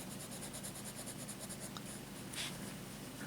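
Graphite pencil scratching steadily across paper in a quiet room, a soft continuous scraping texture with small strokes and faint taps.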